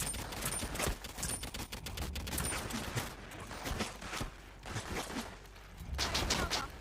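Gunfire rattles in the video game Realm Royale: dense, loud, continuous shots and bursts of automatic fire with no let-up, close and unbroken across the whole stretch.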